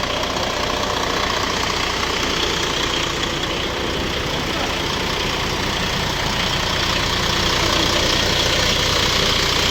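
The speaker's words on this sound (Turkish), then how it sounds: "Motorların sesi de çok güzel arkadaşlar." Temsa Safir Euro 5 bus with ZF automatic transmission, engine idling steadily: a constant dense mechanical rumble with a knocking texture, loud and unbroken throughout, with no voices.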